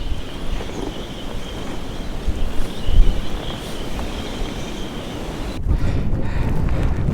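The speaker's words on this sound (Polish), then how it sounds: "Już to słychać, ten huk wiatru." Strong winter wind on Hokkaido roars steadily into the microphone, a loud rumbling buffet that swells and gusts for several seconds, with no talking.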